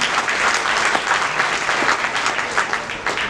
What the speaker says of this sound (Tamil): அவங்களுக்கு எல்லாருமே ஒரு பெரிய ஒரு கைத்தட்டல் கொடுத்தா ரொம்ப நல்லாயிருக்கும்